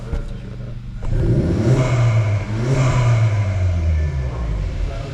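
A VW Golf 7 with a 1.4 TSI engine, stage 3 tuned with an IHI hybrid turbo to about 225 hp, revs up loudly from idle and holds a sustained, droning rev close to the microphone.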